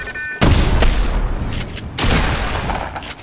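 Loud bursts of gunfire in a Fortnite-style video game, two heavy volleys close together with a brief lull between them, and no talking.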